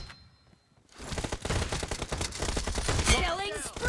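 Rapid close-range M1014 shotgun blasts in the mobile game BGMI, a dense burst of loud repeated gunfire after a brief quiet start, ending with an in-game voice over the shots.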